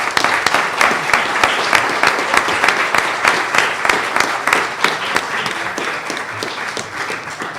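A conference audience at a genealogy talk claps for a speaker in sustained, even applause, sharp individual claps audible within the steady wash for several seconds.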